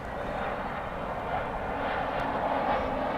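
An American Airlines airliner arriving from Los Angeles at DFW Airport gives a steady, loud engine roar from a distance, with no breaks through the clip.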